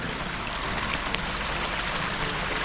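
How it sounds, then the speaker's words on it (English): A clean brook running through a rural property in Huberdeau, Quebec, makes a steady, dense wash of flowing water that fills the whole clip, close and even, with no voices. "This brook runs right through the property."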